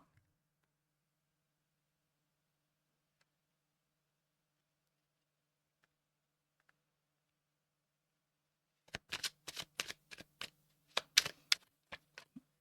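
Playing cards being laid out and shuffled during a French tarot-style reading, a burst of crisp snaps and riffling slaps in the last few seconds after near silence.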